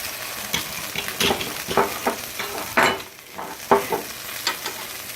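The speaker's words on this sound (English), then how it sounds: "I'm going to stir that in pretty good" A spoon stirs clam juice through seafood pesto in a hot pan, giving a steady close scraping and swishing over a soft sizzle for several seconds.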